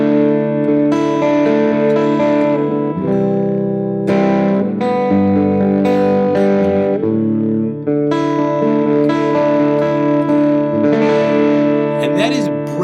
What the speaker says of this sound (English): breaking chords up. You can think of it as playing these arpeggios